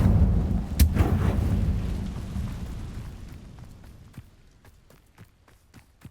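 Incendio fire spell cast in a Harry Potter video game, a loud rumbling burst of fire that slowly fades, followed by scattered crackles and small pops as it dies away.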